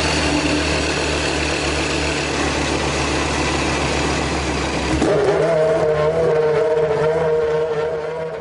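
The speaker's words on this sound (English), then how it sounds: "When the engine starts, it idles at the same speed as the rest of us drive at" A Formula One car with no built-in starter motor fires up; a broad roar gives way after about five seconds to a steady, loud, high idle with distinct harmonic tones, close and alone.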